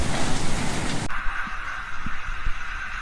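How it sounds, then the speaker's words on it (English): Heavy rain pours down in Shanghai during a summer storm with strong winds, a dense roaring wash that cuts off abruptly, leaving softer rain with a few low dull thumps. "There was a heavy rain with strong winds in some areas of Shanghai, China."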